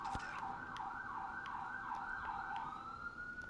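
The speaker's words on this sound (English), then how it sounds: "I know y'all hear the sirens." Police and ambulance sirens wail, sweeping up and down steadily in the distance, the rising and falling tone repeating without pause, with a sudden loud bump at the very end.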